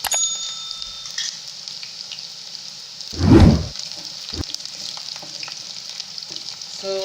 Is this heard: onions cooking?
yes